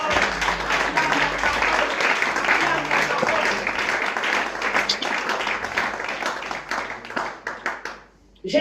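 A church congregation claps steadily and loudly throughout, a dense wash of applause with voices mixed in, fading briefly near the end.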